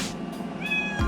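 A pet cat meows indoors, a single clear close meow with rising harmonic tones near the end of the brief moment, with no speech over it.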